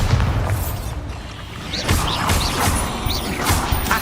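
A Bombarda blasting spell goes off in Hogwarts Legacy on PS4, loud booming crashes and whooshes of game combat layered over continuous low rumbling, with several impacts in a few seconds.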